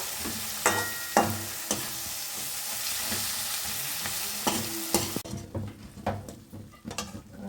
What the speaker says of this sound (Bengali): ভালো করে পেঁয়াজ আর ক্যাপসিকামটাকে ভেজে নিতে হবে